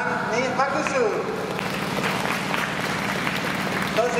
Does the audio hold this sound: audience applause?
yes